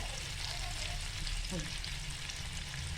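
KFC-style chicken frying in a pan on medium gas, a steady close sizzle with a soft stir or turn partway through, no talking.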